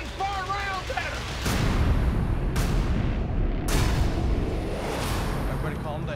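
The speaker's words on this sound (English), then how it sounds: "That's gunfire." Heavy gunfire booms out in several sharp bursts over a dense, rumbling background, loud and close, with a few distant shouts mixed in.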